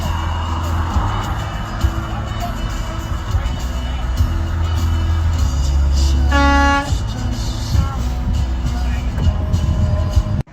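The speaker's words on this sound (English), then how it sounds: "The driver on the outside yanks the other driver's air horn before stomping off." A truck air horn yanked during a road-rage traffic stop gives a brief loud blast with stacked tones, rising over constant heavy traffic and engine rumble.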